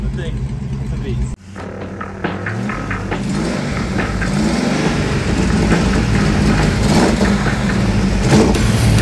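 A 1962 Ford Falcon's engine starts with a sharp catch, then idles and revs up in a rising, throaty growl that stays loud and close, with voices talking faintly underneath.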